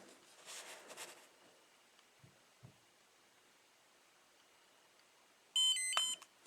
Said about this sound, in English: Alright, so there it's beeping.